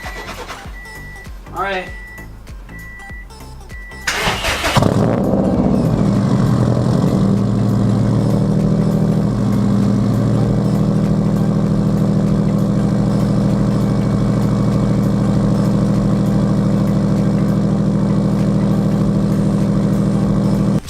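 A Subaru car that has sat unused for months cranks with a few rhythmic chirps, catches and roars to life, then settles into a steady, loud idle, with a brief spoken remark near the start.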